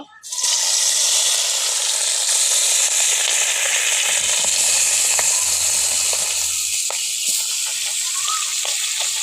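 Fish pieces frying in hot oil in a kadai for a raw tomato recipe, a loud steady sizzle with crackling that runs throughout, close by, with no talking.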